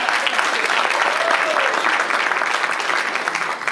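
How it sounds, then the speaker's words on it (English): An audience applauding at a high school signing day ceremony, a loud, dense round of clapping from a full room that holds steady and begins to fade near the end. "Melba Mullins, let's give her a round of applause."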